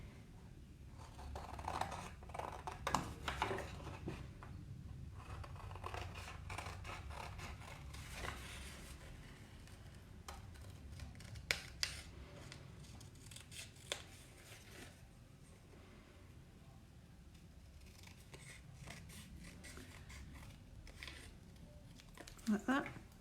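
Scissors cutting out a paper template, faint snipping and paper rustling scattered across a long stretch at close range, with a few sharper clicks near the end and a person talking over it.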